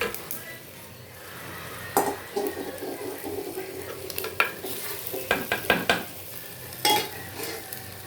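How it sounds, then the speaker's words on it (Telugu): Fish pieces cooked with chili for a tamarind fish pulusu sizzle quietly in a pan, broken by a string of sharp metallic clinks and scrapes of a utensil against the pan, irregular and close. "ఇదండి చేప ముక్కలు వేస్తాం కదండి"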